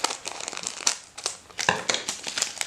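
Plastic wrapper of a Transformers Trading Card Game Wave 1 pack being cut open with scissors and handled, giving close, loud, irregular crinkling and crackling bursts with no voices.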